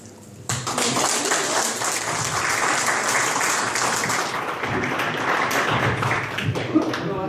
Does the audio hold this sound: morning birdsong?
no